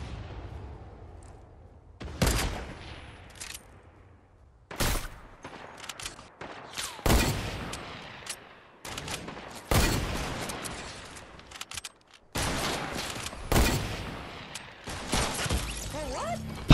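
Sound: gunfire in the video game Fortnite

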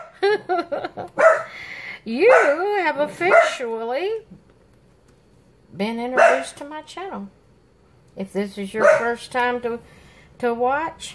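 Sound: dogs barking

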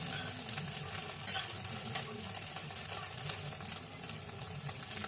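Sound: frying folded egg omelette pieces in a pan

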